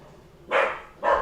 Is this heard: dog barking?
yes